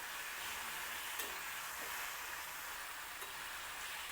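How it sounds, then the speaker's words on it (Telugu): Star fruit pulihora tempering frying in a hot pan, a constant soft, even sizzle with a few faint stirring scrapes and no voices. "జస్ట్ ఒక 1 to 2 మినిట్స్ వేయించుకుంటే చాలు."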